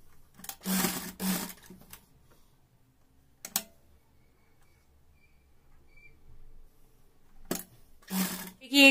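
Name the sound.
sewing machine stitching a newborn baby cap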